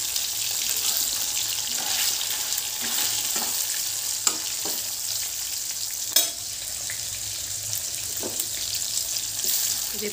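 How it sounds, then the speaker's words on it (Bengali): Mixed vegetables fry in a pan at home alongside other dishes cooking, a continuous close sizzle with occasional clinks and scrapes from stirring, plus a faint running-water sound in the background. "এই জন্য একটাতে সবজি ভাজা করছি আর কি, 5 রকম ভাজা।"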